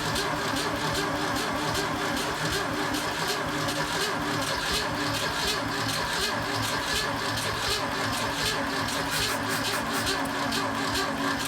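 A 1984 Pontiac Fiero engine running steadily after fuel was added, a continuous rough mid-pitched idle with a constant close-up drone that barely varies in level.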